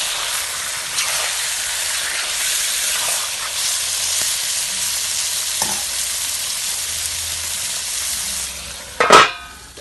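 Duck curry with ash gourd frying in a pan gives a steady, even sizzle and hiss close by, broken by a few soft stirring taps and a sharp clatter near the end.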